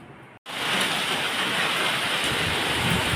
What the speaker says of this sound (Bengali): দেখো প্রচণ্ড ঝড় বৃষ্টি শুরু হয়েছে